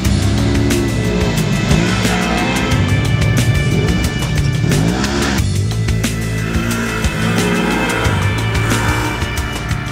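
A 2014 Polaris RZR XP1000 side-by-side with its two-cylinder ProStar engine drives at speed, a loud, continuous engine roar with rising and falling pitch as it revs through gears, up close.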